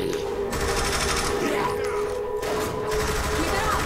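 Sustained gunfire in Saints Row: The Third, a fast, dense automatic rattle running without pause under a steady background hum, with speech faintly underneath.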